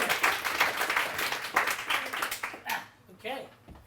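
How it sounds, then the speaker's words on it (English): A person clapping like a chicken: a quick, uneven run of sharp claps, close and fairly loud, fading near the end, with voices mixed in. "Who would have thought I get to see you clap like a chicken?"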